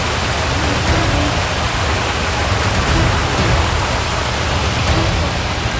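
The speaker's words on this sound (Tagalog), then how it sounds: "Daming mini falls." Mini waterfall at Tala River Park in Bailen, Cavite: a loud, steady rush of falling water that fills the whole clip with an even, close roar, with no voices.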